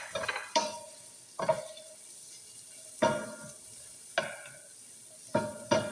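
Onions frying in a pan for pancit canton, a steady soft sizzle punctuated by five or six sharp scraping stirs of a utensil against the pan, spaced about a second apart.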